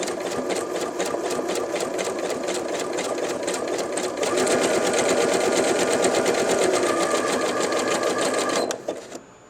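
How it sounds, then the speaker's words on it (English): A top-loading sewing machine stitches a fabric test sample with a steady, fast mechanical whirring and rapid needle rattle, loud and close, running continuously before slowing to a stop at the end. "so we're just going to sew a sample"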